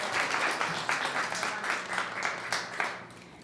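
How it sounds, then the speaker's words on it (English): A small audience claps for a participant at a live body language talk, a moderately loud patter of hands with soft rhythmic swells, heard alone without talk. "round of applause for Jean"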